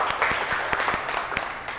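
Audience applause in a school presentation setting, a short burst of steady scattered clapping from a crowd, moderately loud and continuous throughout.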